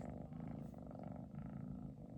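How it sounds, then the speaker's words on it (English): A kitten purrs right at the microphone, a soft, steady low rumble that continues throughout, quiet and with no talking. "maybe you can hear him purring if I put him up close."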